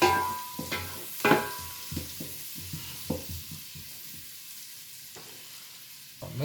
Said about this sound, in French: pour que les oignons puissent transpirer un petit peu